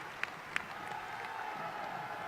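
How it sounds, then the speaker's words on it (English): Part of the Bryce Jordan Center basketball arena crowd gives a standing ovation to a departing player, a steady wash of distant applause and cheering with a couple of sharper claps standing out near the start. "gets a standing ovation from a part of the BJC crowd"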